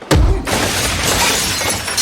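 Glass shattering during a movie fight scene: a sudden heavy crash followed by about two seconds of loud, bright, scattering shards and debris.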